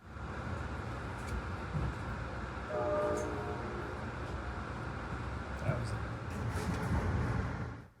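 An Amtrak Pennsylvanian passenger train makes its stop at Altoona station, heard from onboard as a steady low rumble with a brief horn-like tone and occasional clanks, while a voice speaks over it.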